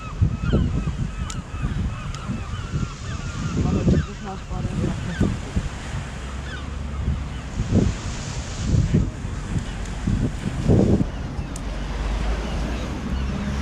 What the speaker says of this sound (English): Beautiful sea.